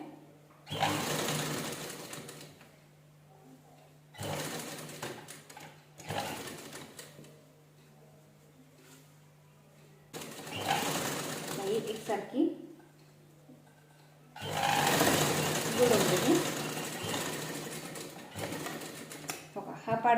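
A sewing machine runs in several bursts of a few seconds each, stitching a sleeve onto a blouse, its steady whirring loud and close with quiet pauses between runs where someone speaks softly.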